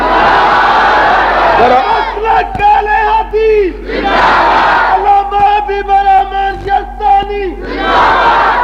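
A crowd at an Ahl-e-Hadith religious gathering roars slogans in unison, alternating with a leader's amplified call, in loud, rhythmic call-and-response bursts over a reverberant sound system.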